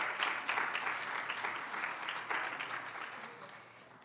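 A career summit audience applauds a panel as it comes down, a medium crowd clapping steadily that starts full and gradually thins and fades toward the end.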